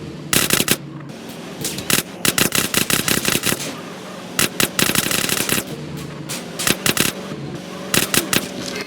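Gunfire in GTA San Andreas, with rapid bursts of automatic shots in quick clusters, separated by short pauses, over a low car engine rumble.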